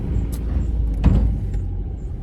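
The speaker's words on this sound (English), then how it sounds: "going to get flattened by a massive lorry" A massive lorry driving past near a trailer repair job, a brief loud rumble that swells around the middle and then fades.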